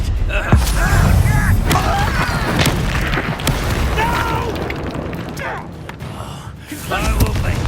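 A Confringo explosion spell is cast in Hogwarts Legacy during combat, with loud booming bursts and crackling debris layered over battle noise, while voices shout throughout.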